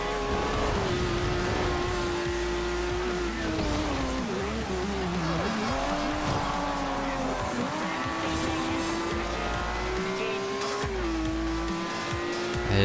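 A race car in the video game Forza Horizon accelerates on wet roads, its engine droning loud and continuous while pitch climbs and dips through gear shifts, with tire squeal and brief skids.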